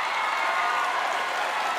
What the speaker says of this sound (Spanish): ¿Qué tal unos aplausos,